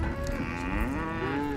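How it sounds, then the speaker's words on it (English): Cattle being rounded up for vaccination on a New Mexico ranch give a long, loud moo that bends in pitch, close by and without talk. "rounding up cattle for vaccinating"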